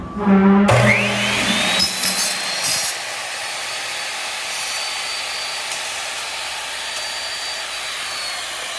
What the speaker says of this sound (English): you could cut this with a regular chop saw